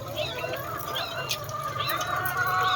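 Layer hens clucking in a coop in the morning, several overlapping close calls over a steady background hum.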